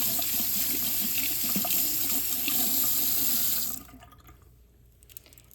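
Sink tap running steadily while retainers are rinsed under the stream, a close, even rush of water that cuts off near the end, leaving a quiet room with a faint drip.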